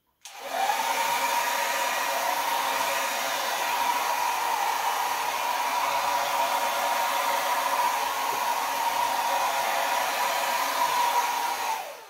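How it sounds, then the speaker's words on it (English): A 1200-watt Babyliss travel hair dryer switches on and blows across acrylic pour paint with a steady, loud whooshing whir for several seconds before cutting off. "I'm going to take my Baby Bliss Travel Hair Dryer, 1200 watt. Blow that base over and then blow out"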